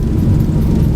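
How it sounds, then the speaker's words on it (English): Boeing 737 thrust reversers roaring after landing in the flight simulator X-Plane 12, a loud, dense low rumble that holds steady and close without a break. "Reversers are out."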